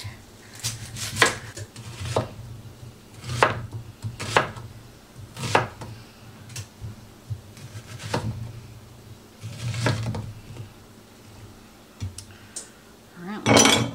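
An onion is chopped with a knife on a cutting board, producing about a dozen sharp, irregularly spaced chops close by, separated by short quiet gaps, with a louder knock at the very end.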